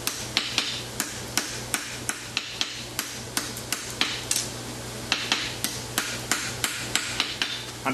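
A hammer rings in rapid, regular strikes on metal while forging stock for a concave caulked horseshoe with a wedge, a steady series of sharp close blows over a low hum.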